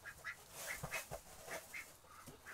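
A sick duck gives several short quacks at an irregular pace, fairly close but faint, with no talk.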